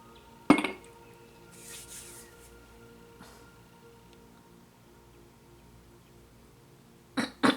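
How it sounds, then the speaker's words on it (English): A cup clinks while tea is being drunk: a sharp clink near the start, faint rubbing and light taps in a quiet room, then two more close clinks at the end. "I'm drinking my tea"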